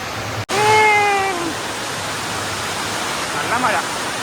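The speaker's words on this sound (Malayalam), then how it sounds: "നല്ല മഴ കേട്ടോ." Heavy rain pours down in a steady, loud, broadband roar, with a brief whistling tone near the start and a short dropout early on.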